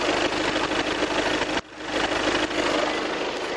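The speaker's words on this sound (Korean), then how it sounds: "엔진 소음을 먼저 들려드리면은" A 2.0 TDI diesel car engine idling with the bonnet open, a steady, close, dense clatter and hum that dips briefly midway before resuming at the same level.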